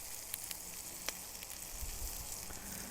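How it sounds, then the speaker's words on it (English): Chorizo sizzles in a cast iron pan as its fat renders out for a prawn and chorizo paella, a steady, fairly quiet hiss dotted with a few sharp pops and crackles. "We've got to render the fats and the spices all out of the meat"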